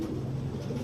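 Pigeons coo in a low, steady murmur close by as the birds come in, a continuous soft burbling with no other sound over it.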